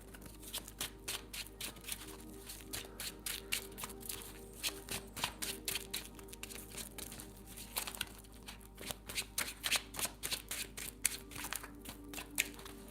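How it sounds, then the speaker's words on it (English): A tarot deck is shuffled again and again by hand, giving rapid papery riffles and slaps in irregular bursts, close and fairly quiet, with no talking. "Let's give the cards really good shuffle."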